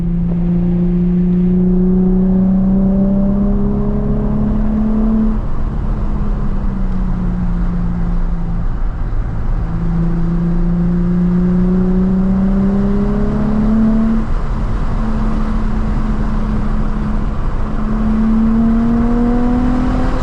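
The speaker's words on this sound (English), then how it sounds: "Tomei exhaust sounds good." A Nissan 350Z fitted with a Tomei exhaust drives and revs, pulling up through the gears in a few rising sweeps with lifts of the throttle between them, heard from inside the car without talk.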